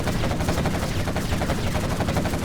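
Quad Cannon vehicles in Command & Conquer Generals Zero Hour fire continuous, dense, loud rapid gunfire, a harsh unbroken clatter of overlapping bursts during a GLA battle.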